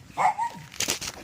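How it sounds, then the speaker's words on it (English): A single short dog bark followed by a brief whimpering yip, close and moderately loud. "Sorry about my dog."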